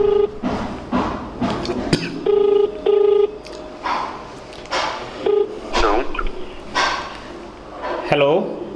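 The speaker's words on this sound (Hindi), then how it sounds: "रिंग हो रहा है।" A phone rings out on a call with tonal beeps in repeated bursts, while a voice talks over it and a dog barks nearby.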